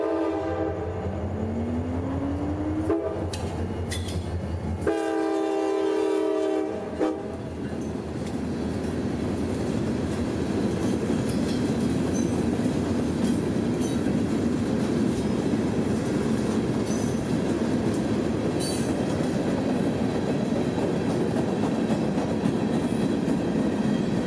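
A train horn sounds in several long blasts, then a heavy 21-car freight train rumbles steadily past with continuous rolling clatter, loud and close.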